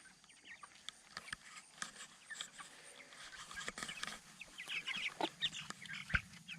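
Chickens cluck softly on a homestead, scattered short clucks and pecking ticks at a moderate distance, faint and steady with no talk.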